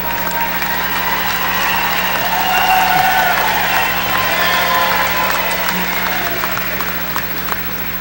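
Sustained applause from a large audience at a university spring commencement ceremony, a dense steady clatter of clapping that swells slightly midway and carries on throughout, with a low hum underneath.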